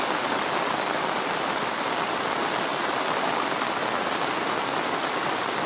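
Heavy rain pours down steadily over a Kenyan village, a dense, continuous hiss of water on surfaces with no pauses and no voices.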